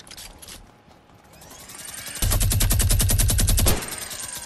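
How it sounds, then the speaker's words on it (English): A minigun fires in the Fortnite 50v50 video game: a mechanical whirring spin-up builds, then about a second and a half of very fast, evenly spaced, loud shots before the fire cuts off. "I tried to get that 360 minigun"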